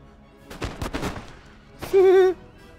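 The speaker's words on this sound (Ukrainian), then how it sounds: "Вогонь, вогонь, вогонь! Стріляємо по готовності." Musket volleys ring out in the video game Empire Total War: a quick cluster of crackling shots, a brief pause, another sharp burst, then a short tonal blare.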